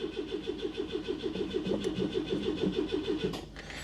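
A motorcycle engine on choke cranks over repeatedly on a weak battery, a steady rapid chugging rhythm of the starter turning slowly without catching, close and alone with no talk.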